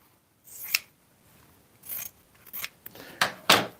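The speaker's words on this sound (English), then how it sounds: "I'm going to take my pinking shears" Pinking shears snip through fabric at close range, a handful of crisp, uneven cuts building from soft to louder toward the end, with a faint rustle between them and no talking.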